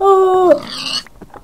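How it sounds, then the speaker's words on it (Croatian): A single loud Minecraft sheep bleat from a pink sheep, a steady nasal tone that bends downward at the end, followed by a few soft clicks. "Roze ovca."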